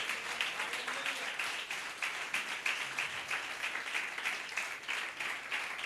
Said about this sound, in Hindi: माँ के लिए तालियां बजाओ यार